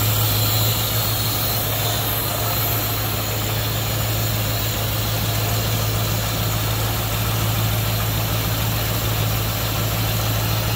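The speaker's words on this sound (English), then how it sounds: "289 Lycoming V8" A 1937 Cord 812 Beverly sedan's 289 Lycoming V8 idles smoothly and steadily at close range, with a constant low hum and even mechanical whir throughout and no talking.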